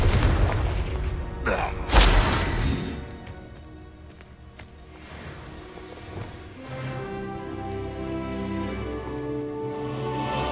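A Confringo blasting spell goes off in Hogwarts Legacy with a loud, deep boom and crash, followed by rumbling debris and game sounds that fade into a lower ambient tone.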